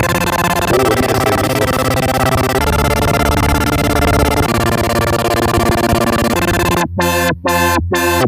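Synthesizer played in FL Studio Mobile, a dense, loud sustained tone with shifting layers, ending in a few sharp rhythmic chopped bursts, with no voices.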